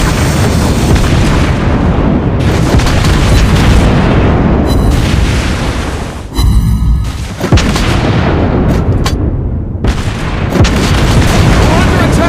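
Heavy naval gunfire and explosions from a World of Warships Blitz battle with the St. Louis cruiser, continuous loud booms and blasts layered over one another, with a brief lull near the middle, and some game voice lines mixed in.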